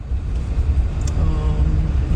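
Car driving through a one-lane railroad tunnel in Alaska, with steady low road rumble and engine noise echoing inside, continuous and fairly loud throughout.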